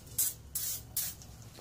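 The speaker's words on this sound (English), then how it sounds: "you should get some PB Blaster. Spray down that screw nice and good" Three short bursts of PB Blaster penetrating oil hissing from an aerosol can onto a screw on an outboard lower unit, each spray close and crisp with brief pauses between, no talking.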